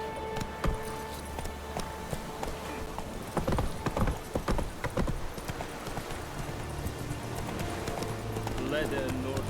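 Horse galloping in The Witcher 3 video game, with rhythmic clip-clop hoofbeats running through, an occasional whinny and ambient game sounds, while a person talks over it.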